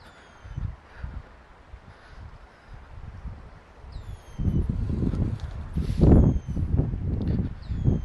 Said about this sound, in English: Well, at least it's a little breezy, so it's keeping me nice and comfortable